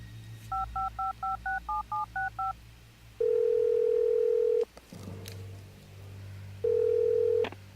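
DTMF keypad tones in the Art of Murder video game, a quick run of about eleven dialing beeps followed by two long steady dial-tone or ringback tones with a short gap between, clear and alone.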